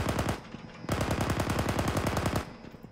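Automatic weapon fire in Arma 3 from a BMP-2 gunner's position: two long, rapid bursts of loud, close shots, the second running nearly two seconds, with no speech over them.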